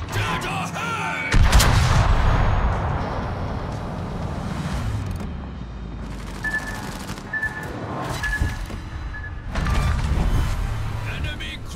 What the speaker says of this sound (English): Torpedoes! Dead ahead!